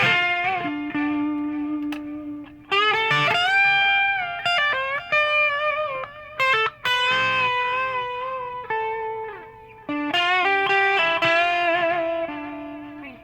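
Crunchy, overdriven 1959 Gibson electric guitar with humbucker pickups plays a riff of bending notes and chords, with a brief pause and restart partway through and no voices.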